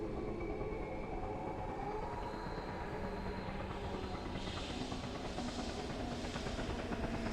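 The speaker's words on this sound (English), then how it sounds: "Watch train go by." A video-game train passes a station with a continuous rumbling, hissing rail roar that holds steady at moderate loudness throughout, and a faint brighter whine rises toward the end.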